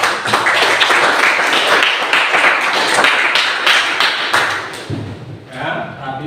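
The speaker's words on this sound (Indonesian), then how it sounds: "Tepuk tangan ya." Students in a classroom clap after a presentation, brisk close hand claps and thumps that thin out toward the end, with voices mixed in.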